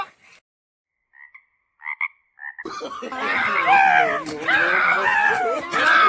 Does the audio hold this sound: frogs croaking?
yes